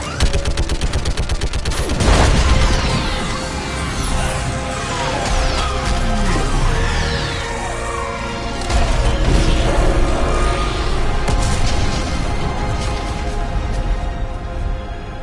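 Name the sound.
gunfire and orbital strike in a video game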